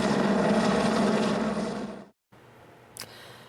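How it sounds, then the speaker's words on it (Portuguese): A helicopter hovering over a funeral in Brazil as firefighters step out, a loud steady rotor and engine drone that cuts off abruptly, then fainter noise with a brief sharp burst. "bombeiros saíram do helicóptero em movimento"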